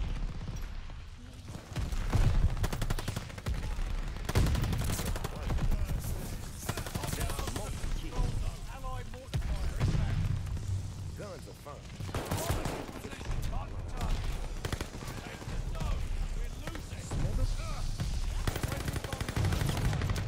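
Rapid bursts of automatic gunfire from a video game shooter crackle in repeated volleys with short pauses between them, with a player talking over the shots.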